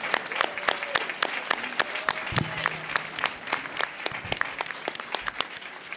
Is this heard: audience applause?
yes